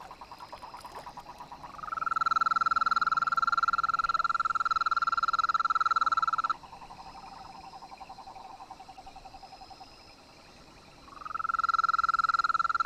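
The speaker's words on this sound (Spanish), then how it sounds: "Hacia allí se dirigen los sapos machos y comienzan a croar llamando a las hembras" Male toads croaking to call females in Uruguay, long sustained trilling calls from several animals that overlap and alternate, loud and close with a brief lull before a new caller starts up.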